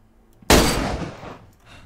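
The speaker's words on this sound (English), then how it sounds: "So that's 11 fucking shots it's taken to hit it." A single sharp gunshot from a firearm in DayZ, loud and close, with a short decaying tail and no talk.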